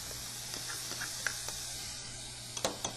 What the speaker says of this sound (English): I've got my pan heated, and I'm going to add some butter. I'm going to melt the butter and add chopped